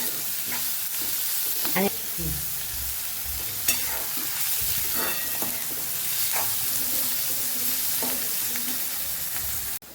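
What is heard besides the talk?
stirring manchurian mixture frying in pan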